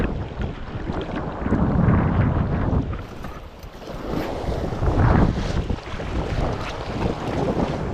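Strong, sudden wind gusts sweep over the open sea around a small fishing boat, roaring in loud surges that rise and ease against the rush of water, with no talking.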